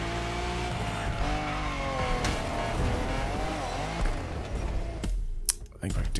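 A Lamborghini races in The Crew Motorfest, its engine droning steadily with rising and falling revs, tires squealing through a skid near the end, loud and close with no talk over it.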